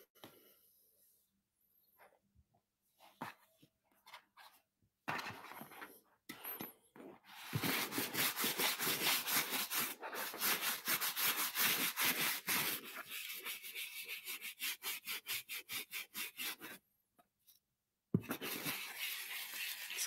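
Brush scrubbing a leather boot up close: quiet scattered strokes at first, then a long run of fast rhythmic scrubbing strokes, pausing briefly and resuming, with soft talk at the edges.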